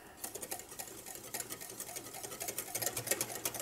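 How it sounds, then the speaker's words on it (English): A milk and flour mixture is whisked by hand, giving a rapid, even train of close, light clicking strokes throughout. "You want to make sure that it's not lumpy, so whisk it nicely."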